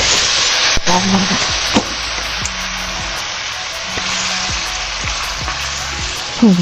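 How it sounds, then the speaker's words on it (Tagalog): Marinated pork steak fries loudly with garlic and onion in a hot pan, a strong continuous sizzle broken by several clinking stirs of a utensil against the pan. "Lagyan na natin yung ating karne for today's vlog."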